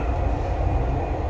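A Dubai Metro train runs along the Green Line toward Expo 2020, a loud steady rumble of the moving carriage with a faint high whine, heard continuously from inside.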